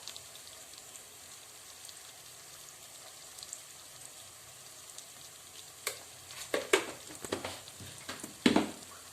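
Chili powder stirred into egg curry masala in a pan: a soft, constant sizzle, then a few sharper scraping stirs and clatters in the last seconds.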